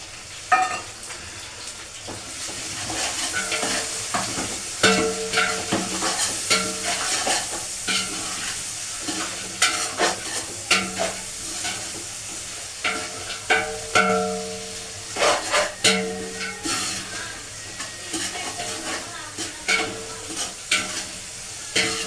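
An onion mixture stirred in a hot pan, steady sizzling under repeated scraping and clattering strokes of a spoon against the pan, loud and close.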